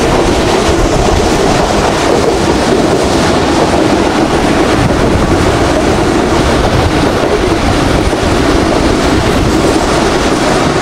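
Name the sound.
train running through hilly area, Islamabad to Multan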